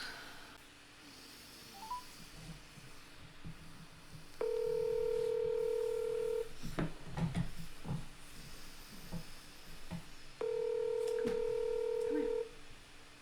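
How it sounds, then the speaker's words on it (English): Telephone call tones sound during a call, as two long, steady electronic tones about two seconds each separated by a pause, heard fairly clearly over faint background noise and small knocks. "So we're gonna go ahead and call Chris."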